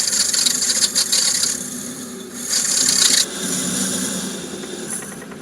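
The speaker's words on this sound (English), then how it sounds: "I've just done a plunge cut into there just to create the recess required for when the ball turner comes round" A metal lathe taking a plunge cut before ball turning with a boring head, giving a scraping, rasping cutting sound that rises and falls in several bursts over a steady machine hum.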